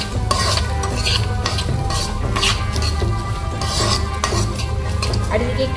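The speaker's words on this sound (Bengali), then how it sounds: "এবার চালটা দিয়েও একটু ভাজা ভাজা করে নিচ্ছি" Rice being fried and stirred in a pan over a low flame for Kolkata-style Basanti pulao: a steady soft sizzle with continual scraping of a spoon and clinks of metal cookware, close up and without talk.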